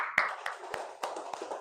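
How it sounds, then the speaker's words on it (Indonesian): Children in a classroom clapping their hands, a handful of sharp, separate claps spread unevenly over a couple of seconds, fairly quiet and with a faint murmur of voices. "Ya, tepuk tangan."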